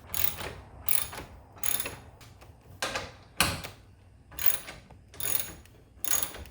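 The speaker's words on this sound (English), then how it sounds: "I'll put these screws through the reinforcement bracket and the bracket both." A ratcheting driver sets screws through a garage door reinforcement bracket, producing repeated short bursts of mechanical clicking, roughly seven close, loud pulses spaced evenly with brief pauses between them.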